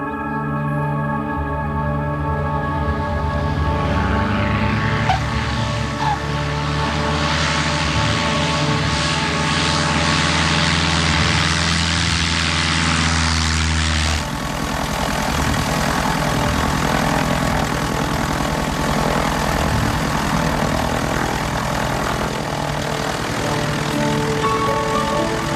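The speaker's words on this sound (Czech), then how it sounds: "Letadlo." A propeller airplane drones steadily and loudly at a small airfield, its engine hum holding a constant pitch before shifting to a rougher, fuller roar partway through.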